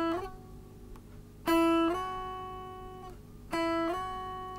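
Clean electric guitar notes sliding between positions with the whole fretting hand moving at once, each slide a smooth clear pitch glide; two firm slid notes ring out and sustain, alone with no talk.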